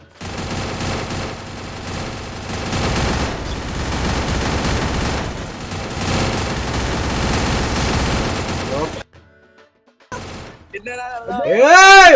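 Loud, sustained automatic gunfire from Free Fire battle royale gameplay rattles almost continuously for about nine seconds, then cuts out; after a brief gap someone speaks excitedly.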